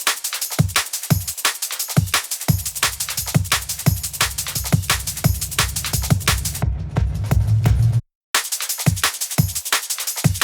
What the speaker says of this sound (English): When we have drum fills, it sounds like this.